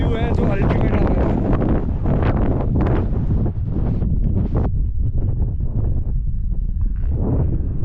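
Very strong wind buffets the microphone in Ladakh, a loud, continuous roar with gusts, while someone speaks faintly under it.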